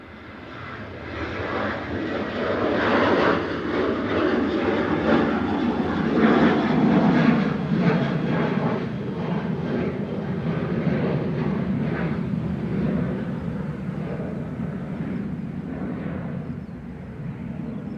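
A Ryanair Boeing 737-800 departs Manchester Airport bound for Paris Beauvais, its engines a loud, broad continuous roar that builds over the first few seconds, peaks, then slowly eases as it climbs away, with no talk over it.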